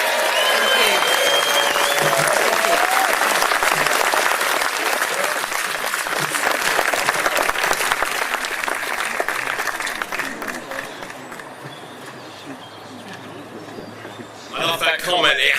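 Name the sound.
audience applauding new Reform UK Member of Parliament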